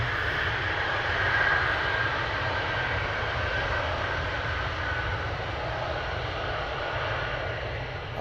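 Steady, loud roar of F-35 fighter jet engines at RAF Lakenheath, a broad continuous rumble holding level throughout with no voices.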